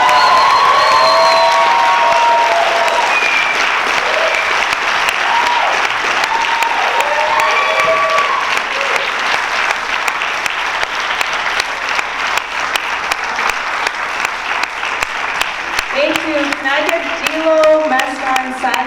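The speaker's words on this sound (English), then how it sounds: "another round of applause, ladies and gentlemen" A stand-up comedy audience breaks into loud, sustained applause and cheering after a comic's set, with scattered whoops and shouted voices rising above the steady clapping throughout.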